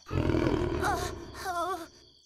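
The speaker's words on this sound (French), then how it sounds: "Ça ressemblait à un chat beaucoup plus gros." A big cat in a Polly Pocket Halloween cartoon lets out two roaring, growling bursts over a low rumbling bed, close and fairly loud, with a brief gap between them.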